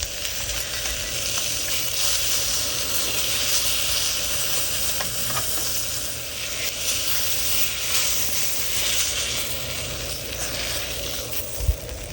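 Pompano fish frying crispy on a hot griddle, giving a steady broadband sizzle and hiss that carries evenly throughout, with a faint clink or tap near the end.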